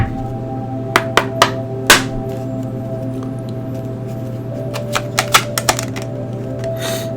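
Tarot cards being shuffled, a series of crisp riffling snaps in two clusters over a steady background hum, fairly close and with no voices.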